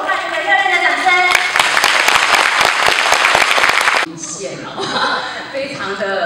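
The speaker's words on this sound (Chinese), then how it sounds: "我们要不要给侨委会主任秘书及工作伙伴一个热烈的掌声？" A warm round of audience applause at an overseas cultural troupe's pre-departure performance, loud sustained clapping from a crowd that stops abruptly, followed by a voice speaking over a quieter hall.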